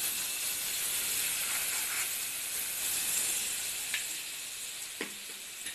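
A spoonful of butter sizzles and hisses steadily in a hot pan, a soft, continuous frying sound at close range with a few faint clinks near the end. No one talks.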